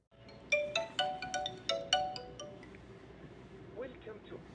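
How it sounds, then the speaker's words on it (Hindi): A phone ringtone for an incoming call plays as a short run of bright, bell-like tonal notes in a quick melodic pattern, fairly close, then fades into quieter room sound. "मेरे पास दूसरे नंबर पे फोन आ चुका है।"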